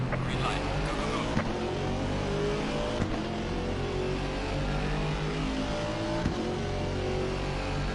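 AMG GT4 race cars in a racing video game at Kyalami, engines accelerating together off the start line in a steady, dense roar with several revving layers, and a voice talking over the engine noise.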